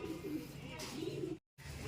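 Pigeons kept as flying birds cooing softly near the listener, low murmuring calls over a short stretch, with a brief dropout near the end.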